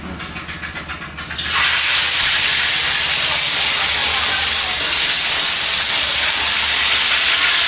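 Cleaned fish drops into hot oil in a pan, and after a few soft clicks a loud, close, sustained sizzle bursts up and keeps roaring steadily.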